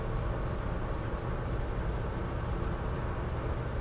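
A 1971 Mercury Marquis Brougham sedan with a 429 two-barrel V8 cruises at 50 mph, giving a steady low road and engine rumble inside the cabin that stays constant and even throughout, with no talking.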